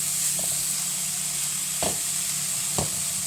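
Jaggery and grated coconut sautéed together in a pan while making steamed modak filling: a steady soft sizzle with a few brief scraping stirs of a spatula, close and moderately loud, no talking.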